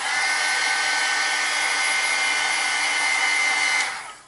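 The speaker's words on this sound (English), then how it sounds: "I'm actually gonna run the heat tool over this" A handheld heat tool blows in a steady, high-pitched whoosh over glossy stamped ink on a Valentine's Day postcard, running loud and close for about four seconds before cutting off.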